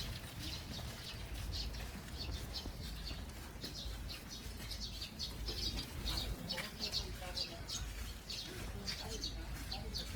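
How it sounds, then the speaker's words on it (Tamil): Sparrows chirping at Kukkiwon in Seoul: repeated short high tweets scattered over a low outdoor hum, fairly faint, with people talking in the background. "சிட்டுக்குருவிலாம் இங்கே வந்துட்டாங்க."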